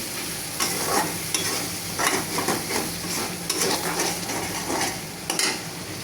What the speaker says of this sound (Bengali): মশলাগুলো এখন ভালোভাবে কষিয়ে নেব।